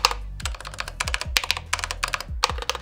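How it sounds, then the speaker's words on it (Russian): Fast, close typing on a budget RGB mechanical keyboard without hot-swap support: a dense run of sharp key clacks broken by heavier, rattling thuds from the spacebar. "Да, пробел гремит, это ожидаемо не идеально, но в целом неплохо."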